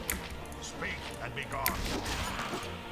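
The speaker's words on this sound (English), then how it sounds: "Edwin's gonna cast some magic missiles now that he's safe" Combat in Baldur's Gate as a magic missile spell is cast: a burst of sharp impacts, crackling blasts and swooshing magical effects, dense and chaotic.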